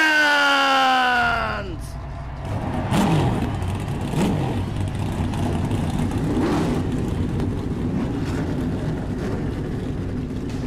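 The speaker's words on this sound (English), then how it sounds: "Drivers, start your engines!" Race car engines firing up and revving on the grid at Las Vegas Motor Speedway in iRacing, a dense steady engine roar with surging revs after a sustained siren-like tone fades, with a commentator talking over it.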